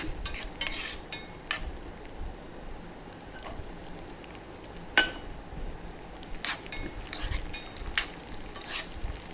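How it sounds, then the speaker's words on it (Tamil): Cashews and then raisins frying in ghee in a pan while making boondi laddu, a low steady sizzle with occasional stirring clinks and scrapes, close by with no talking. "முந்திரி ஓரளவுக்கு ஃப்ரை ஆனதுக்கப்புறம் நம்ம வந்து திராட்சையை சேர்த்துக்கலாம்."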